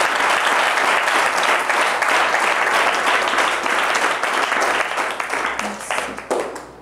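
A church congregation applauding in praise, dense sustained clapping from many hands that fills the room, then thins and fades toward the end.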